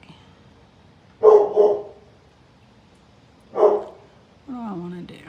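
An indoor dog barks at a neighbour's dog being walked outside: two quick barks, a pause, then one more bark, followed by a brief whine and a person speaking.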